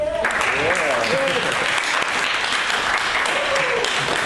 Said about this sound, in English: applause for Jaden again